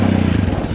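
A Sherco 450 SEF enduro motorcycle engine running roughly as it cuts out from a faulty TPS sensor, a close, loud, rattly idle with no talk over it.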